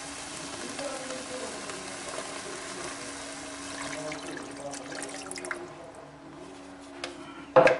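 Water poured into a hot casserole of browning chicken for a chicken-with-olives dish, a broad hissing sizzle that slowly dies down, ending in a brief louder splash or clatter.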